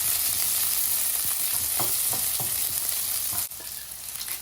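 Mustard seeds and small shallots sizzle in hot oil in a pan, a bright continuous frying hiss with scattered pops and crackles and a sudden knock near the end, with no voices.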